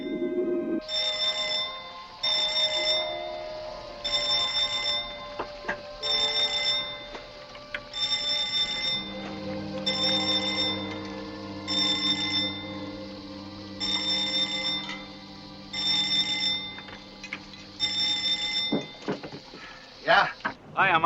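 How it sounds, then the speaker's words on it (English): A bell rings in repeated regular bursts, about ten in a row with short gaps between them, alongside background noise and some faint sounds. "That's when I heard the alarm bell,"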